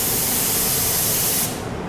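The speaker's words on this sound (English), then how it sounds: "You can hear already all of the air to the paint gun" Paint spray gun blasting at high air pressure, around 32 PSI, a loud steady broadband hiss of rushing air and atomized spray that cuts off abruptly near the end.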